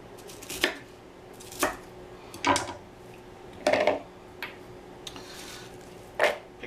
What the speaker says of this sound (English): I come back and cut it like this